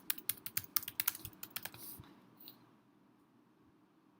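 Fingers tap out an address on a computer keyboard, a quick close run of soft clicks that slows and stops, followed by near silence.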